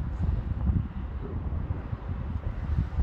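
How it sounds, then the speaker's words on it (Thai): Cold wind blowing outdoors in Switzerland on a day near one degree Celsius, a steady low rumbling buffet against the microphone lasting throughout with no voices. "ลมเย็นมากเลยเนี่ย"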